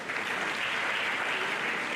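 An audience claps steadily at an academic gathering honouring distinguished scholars, a dense, even wash of applause throughout.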